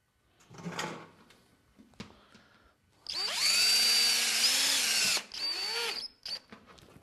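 A power drill drives self-tapping screws through a natural-light tube during installation: a brief handling clatter, then a loud close whirring burst of about two seconds with a rising pitch, followed by a shorter second burst and small clicks.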